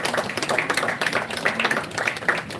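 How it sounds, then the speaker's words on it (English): Audience applause at a college entrepreneurship summit, a steady, fairly loud patter of many hands clapping close by throughout. "Please give a round of applause for Jaikrishna, founder and CEO of Tixon."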